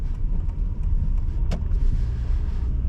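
A car rolls in at a self-storage lot, its steady engine and tyre rumble close and even, with a brief sharp knock partway through and no talking.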